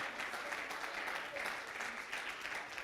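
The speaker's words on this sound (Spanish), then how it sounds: "let's give the Lord a hand clap" A bilingual church congregation claps in praise during a Sunday morning service, a steady, soft wash of many hands, fairly faint and distant, with voices murmuring beneath it.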